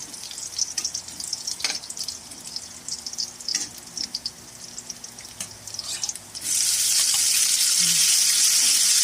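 Tomatoes tipped into a hot pan set off a sudden loud, sustained sizzle that drowns out the earlier light stirring clicks and scrapes.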